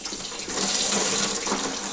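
Water runs steadily from an opened tap into a bathroom sink in newly installed PP plumbing, a continuous close hiss of flow that swells slightly, with no voices.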